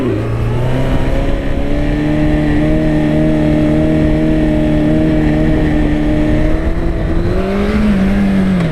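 A Honda CB1100 motorcycle engine runs loud and close, holding a steady rev before a brief rise and drop in pitch near the end.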